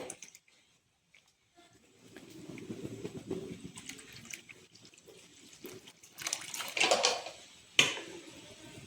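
About three quarters of a litre of milk is poured into a pan for pasta payasam: quiet clinks and shuffling at first, then a rising liquid splash and pour near the end, ending with a sharp knock.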